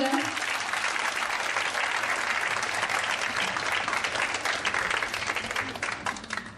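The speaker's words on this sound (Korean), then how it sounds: "여러분 큰 박수 환영해 주시기 바라겠습니다." A large audience claps steadily to welcome a singer onto the stage at a popular culture awards ceremony, a dense, even roar of applause that holds for several seconds before starting to fade.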